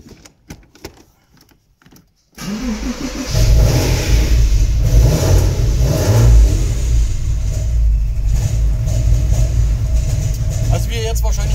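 Porsche Boxster 986 with a 2.5 engine cranking and starting after a few quiet seconds, then idling loud and close with an uneven, slightly rough drone.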